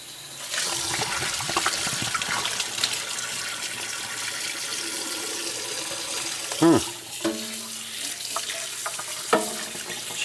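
Hot water runs steadily from a tap to rinse out a part during a conditioning job, a continuous broadband splash lasting throughout, with a few brief clunks and knocks near the end.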